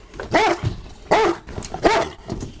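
A police dog barks at a house during a standoff with a suspect: three loud, deep, close barks in a rough rhythm with short growly pauses between them.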